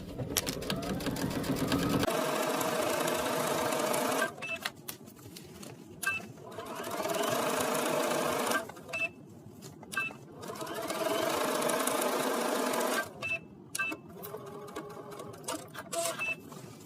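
A sewing machine stitches a sundress seam in loud rapid whirring bursts, the runs broken by short pauses for back stitching, close and clear with no talking.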